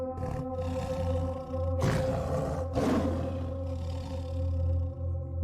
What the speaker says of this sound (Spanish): Aquel maullido, que después se convirtió en un rugido